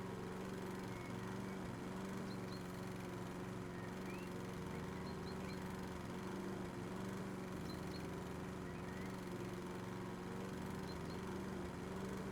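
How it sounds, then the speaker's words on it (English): A lawnmower engine in a video game drones steadily at low pitch, a constant mechanical hum running the whole time with faint chirps above it and no speech. "Look at this, I got a lawnmower."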